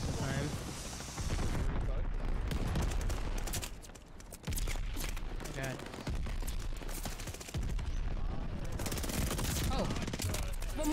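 Artillery shells falling in Call of Duty: Vanguard, a loud sustained barrage of booming explosions and gunfire with brief lulls, close and heavy throughout, while a player speaks over the bombardment.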